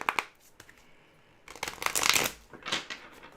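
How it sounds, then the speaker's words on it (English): Tarot cards are shuffled in two short riffling bursts, close and fairly quiet, separated by a brief pause. "I'm going to shuffle a little bit"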